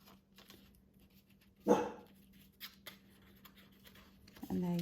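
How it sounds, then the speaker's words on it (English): A pet dog barks at a car coming up the drive, one sharp burst of barking near the middle, then a second short outburst at the end, nearby and loud against a quiet room with light handling noises. "sorry about the dog, she's just had a car come through in the drive"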